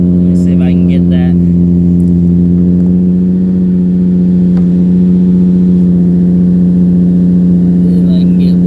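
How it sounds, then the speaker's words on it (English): A 2005 Infiniti G35 Coupe's exhaust rumbles with a deep, steady engine drone close by, holding a constant throaty tone, with faint voices briefly at the start. "Exhaust sounds good. I'll get an exhaust shot."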